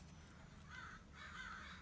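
Crow cawing twice in quick succession, faint and somewhat distant, over a low background hum.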